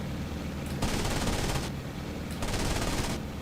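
Aircraft machine gun fire in the IL-2 1946 flight game, with an A6M2 Zero firing on SB bombers over Burma: two sustained rattling bursts, each about a second long, loud and close over steady engine drone.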